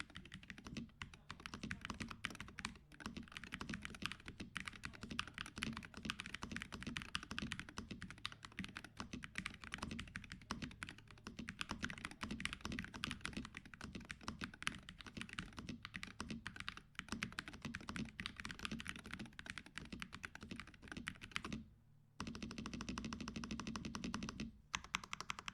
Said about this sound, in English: make this keyboard feel and sound nicer